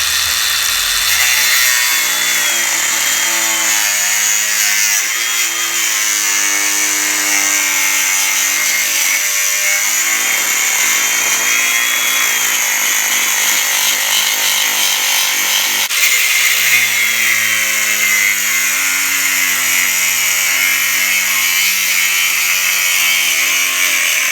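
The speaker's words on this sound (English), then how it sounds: "My little grinder." A small angle grinder cuts through a metal river pole roller, a loud continuous high-pitched whine with shifting tone as the disc bites, running unbroken for a long stretch with a brief dip midway.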